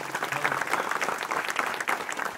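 Steady clapping from a festival crowd at a Maghi Ganesh Jayanti celebration, a continuous dense patter at moderate loudness lasting a couple of seconds with no talk.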